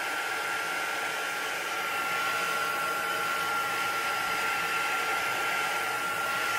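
A heat tool blows a steady, loud whooshing hiss while drying distress oxide ink on a handmade card, running continuously with no talk.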